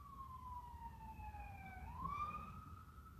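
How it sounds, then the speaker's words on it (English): An emergency vehicle siren wails past a house, a single rising and falling tone sweeping down then back up, faint and distant over steady background hum. "There have been like 20 sirens go past my house here in the last couple of minutes"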